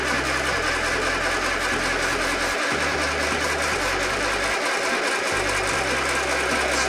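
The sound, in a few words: MG Midget engine cranking over without firing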